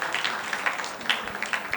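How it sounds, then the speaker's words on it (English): Applause rises for the finalist teams at an ophthalmology quiz final in a conference hall: a steady, fairly soft wash of many hands clapping, with a few sharper individual claps in the crowd. "Can we have a round of applause for the teams that have come into the finals?"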